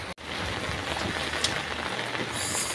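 Rainy-season rain falls steadily and densely on surfaces, a continuous close hiss with no talk over it.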